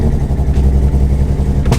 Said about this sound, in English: Oh no, pop. Definitely got a misfire